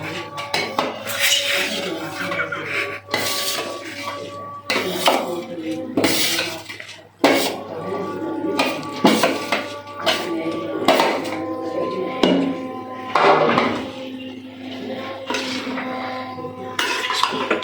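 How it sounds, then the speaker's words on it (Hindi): Sella rice being mixed in a pot of chicken Afghani pulao, with repeated metallic scraping and clanking of a spoon against the pot, close and busy, with a voice talking intermittently throughout. "चावल अच्छे से मिक्स कर लें"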